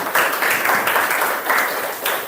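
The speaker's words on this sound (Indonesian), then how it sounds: "Beri tepuk tangan untuk perwakilan dari kelompok 4." Classroom applause from students for a group representative, a short burst of steady clapping filling the whole moment.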